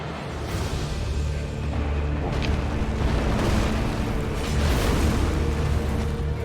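A rumbling, roaring explosion from the Elden Ring boss fight against Maliketh in the Ashen Capital fills the whole stretch, a dense continuous blast with a few sharper bursts near the middle.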